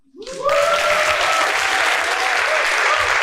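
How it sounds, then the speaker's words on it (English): Audience at a tech conference talk breaks into loud, sustained applause, swelling quickly from silence, with a few whoops rising over the steady clapping. "Pause for a huge applause."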